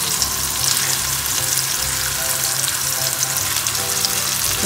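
Saltimbocca fries steadily in a pan, a loud, continuous sizzle with crackle and no talk over it.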